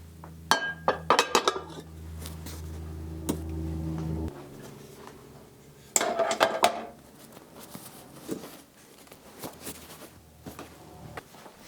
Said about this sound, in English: I'm going to pop it out of the pans.